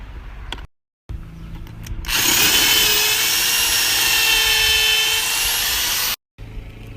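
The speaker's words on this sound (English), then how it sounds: "We're just going to drill holes right above them." A drill boring holes with a 5/32 drill bit during a concrete anchor repair, a single sustained high-pitched whine lasting about four seconds, loud and close, starting after a brief pause and stopping abruptly.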